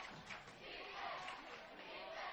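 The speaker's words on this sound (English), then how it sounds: "Some defense chants coming from the crowd." A crowd in the stands at a high school football game between Sheldon and Tigard chants for defense, a faint, distant, sustained roar of many voices.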